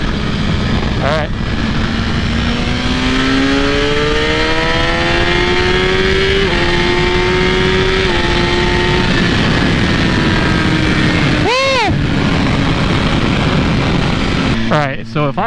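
A 2017 Suzuki GSX-R1000 sportbike pulls hard from third gear, its engine note climbing steadily through gear changes, loud and close in rushing wind, with a brief whoosh of passing traffic.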